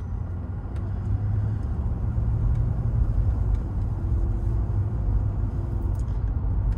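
A light ivory 1989 Mercedes-Benz 420SEL drives on a bumpy road, giving a steady, low interior rumble of engine and tyres that holds at an even level without speech.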